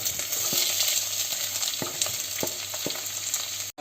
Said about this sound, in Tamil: பெரிய வெங்காயமும் அந்த பச்சை மிளகாயும் நம்ம போட்டு வதக்குவோம்